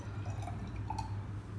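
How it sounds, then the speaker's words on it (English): Water trickles and drips softly while rinsing a glass test tube during a chemistry practical, heard faint and close over a steady low hum. "Let me just wash with water."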